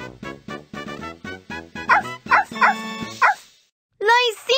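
Cartoon puppies in a Dora the Explorer game bark in a quick run of bright, yipping barks, a few higher squeals among them, then a short pause before a sing-song voice chimes in.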